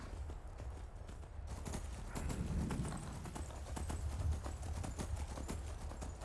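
A horse ridden through town in Skyrim clip-clops at a steady trotting rhythm, its hoofbeats clear and close over a faint background.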